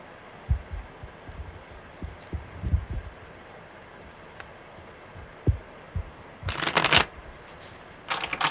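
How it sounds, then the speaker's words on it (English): Tarot cards are shuffled up close: soft thumps and taps, then a quick riffling flutter, repeated twice. "They're shuffling really well today."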